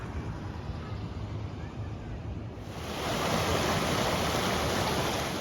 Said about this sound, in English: There are the falls.